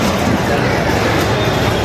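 Loud, continuous rumble of a moving train between Solapur and Kalaburgi, with a heavy low drone and rattling texture, close and steady from start to finish.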